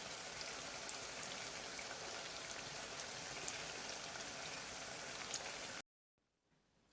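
Shakarpara dough pieces sizzle in hot oil with a steady, dense crackle and fine popping close by. The sizzle cuts off abruptly near the end.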